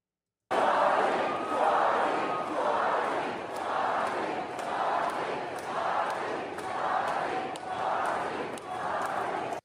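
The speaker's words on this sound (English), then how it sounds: "the crowd has remained completely peaceful despite multiple disruptions and started chanting Charlie's name in response" A large crowd at a vigil chants Charlie's name in a steady, loud, rhythmic call repeated about every second, sustained and unbroken throughout.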